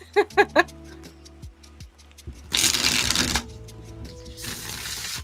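A tarot deck is riffled and shuffled in several bursts, crisp fluttering rattles with soft clicks and taps between them, close up.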